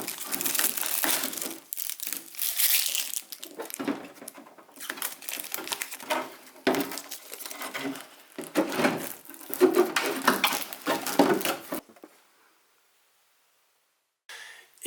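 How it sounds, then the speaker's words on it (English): Masking is peeled and crumpled off a freshly painted Traxxas X-Maxx RC car body, bursts of loud crinkling, tearing and rustling in irregular bunches up close, ending in near silence. "Let me unmask the rest."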